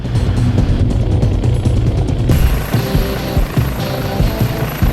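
A helicopter takes off, its rotor and engine roaring loud and close in a continuous throbbing drone throughout.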